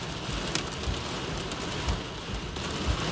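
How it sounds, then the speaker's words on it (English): Pea-size hail patters steadily against a car windshield during an April tornado chase in central Ohio, a dense rain-like drumming with occasional sharper impacts heard from inside the vehicle. "I can confirm hail on the windshield, and on the ground outside."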